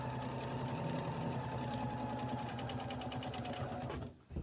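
A sewing machine stitches around the edge of a small art quilt, its steady rapid mechanical whirring and needle chatter running loud and close before stopping abruptly near the end.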